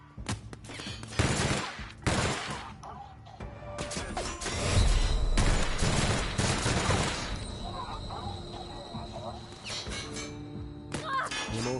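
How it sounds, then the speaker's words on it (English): Bursts of rapid gunfire in The Outer Worlds video game, loud and close, with someone talking over parts of the shooting. "Oh, shooting there now."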